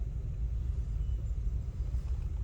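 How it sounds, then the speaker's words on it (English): Road traffic near a national park in the Black Hills gives a steady, low rumble of passing vehicles, moderately distant and even in level, with no voices. "Traffic."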